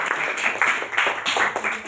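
Short burst of classroom applause for a classmate, a few seconds of steady clapping from a group of students, fairly close and alone without talk.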